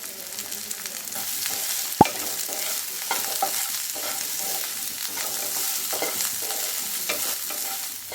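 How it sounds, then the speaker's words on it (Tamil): Small onions fry steadily in a pan for onion chutney, a continuous close sizzle with soft stirring scrapes and one sharp tap near the start, no voices. "இப்போ வெங்காயம் நல்லா பொன்னிறமாக வதங்கிடுச்சு"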